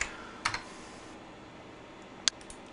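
Names being typed on a computer keyboard while entering records into a database, heard as a few soft, separated keystroke clicks close by in a quiet room.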